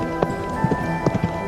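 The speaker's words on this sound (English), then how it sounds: "You say this is the first time you've ever ridden a horse?" Horse hooves clip-clop at an easy walking pace while a rider sits in the saddle, several soft irregular thuds over a steady hum in the background.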